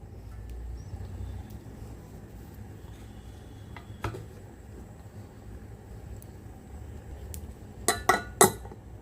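A metal lid is closed on a cooking pot of mango khichuri, giving a few sharp, close clinks near the end after a stretch of quiet kitchen background.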